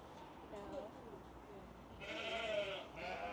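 Southdown sheep bleat at a county show, with several overlapping calls rising over crowd chatter, loudest toward the end.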